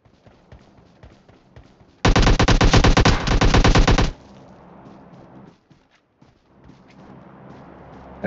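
Automatic gunfire in the mobile battle royale game PUBG Mobile, one loud, rapid, sustained burst of about two seconds that stops abruptly, with quieter game ambience before and after.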